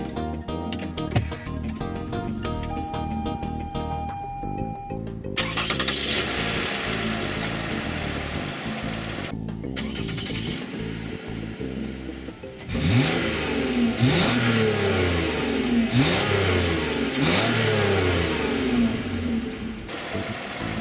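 A Lexus ES 350's 3.5-liter aluminum V6 engine cranks and starts, settles into an idle, then revs up repeatedly in rising and falling surges, loud and close, with no talking.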